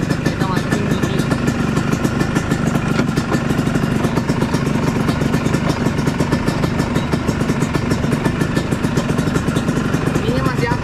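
Rare two-stroke motorcycle engine running steadily as it is shifted into gear, a loud, close, buzzing, rattly drone with constant clatter that continues without a break.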